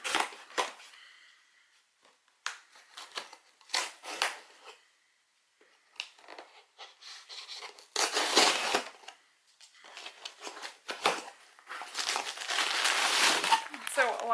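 Bursts of crinkling, crumpling packing paper from an unboxed Scentsy order, loud and close, in irregular handfuls with short pauses between them.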